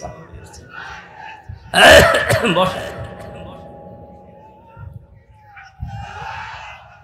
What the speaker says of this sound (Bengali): পানি খেলে আরো কাশি হয়েছে।